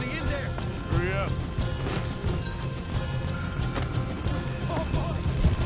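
Horses in a video game, with clip-clop hooves and clattering mechanical game effects over a steady bed of noise, while someone talks throughout.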